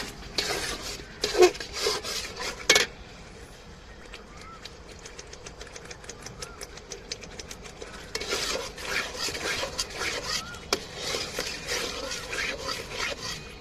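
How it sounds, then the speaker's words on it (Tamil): Banana halwa being stirred in a pan as it thickens, giving a steady scraping and rubbing of spoon against metal with a few louder clanks near the start and busy scraping continuing throughout, with no talking. "பாருங்க நம்ம கிண்டிக்கிட்டே இருக்கையும் நல்லா கட்டி தேய்ச்சிக்கு வந்துருச்சு"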